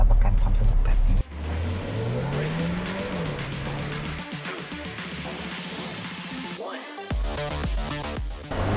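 Exhaust of a Mercedes-AMG GLA 35 revs and roars loudly, rising and falling with a rasping drone and sharp crackles, close and continuous, with tire squeal suggesting a gymkhana slalom setting.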